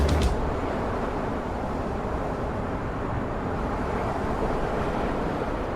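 Ocean waves crash and roll against a rocky cliff in a continuous, broad roar of surf, steady in loudness after a brief sharper burst at the start.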